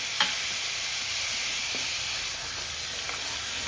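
Steady, close sizzling and hissing of cauliflower masala frying in a pan as two tomatoes go in, with a faint stir or clink near the start and no voices.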